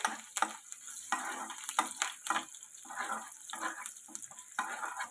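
Mustard seeds, urad dal, cumin, dried red chilies and curry leaves crackling and frying in hot oil, with repeated stirring scrapes and bursts of sizzle, close up, no talking.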